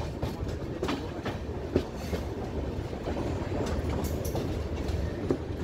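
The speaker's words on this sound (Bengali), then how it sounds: "ট্রেন এখানে দাঁড়ালো, আমাদের সেই গুয়াহাটিতে গিয়েই নামতে হবে।" From inside a passenger train on the Kolkata to Guwahati line, a continuous low rumble with rhythmic wheel clicks and occasional louder knocks carries on without pause.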